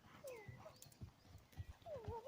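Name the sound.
horse hooves cantering in an arena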